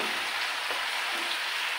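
Malabar spinach leaves fry in a shrimp curry, a steady soft sizzle and hiss from the pan with a faint stir or two, quiet and continuous with no voices.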